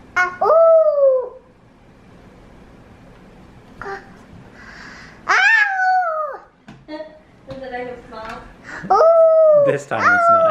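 A child imitates a wolf howl with several drawn-out wavering howls, loud and close, separated by pauses, with a little talk in between.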